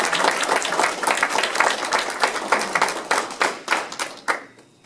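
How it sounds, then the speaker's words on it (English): An audience applauds performers after a concert: a full round of clapping that starts dense and steady, then thins into separate, spaced claps and dies out near the end. "let's give them a round of applause"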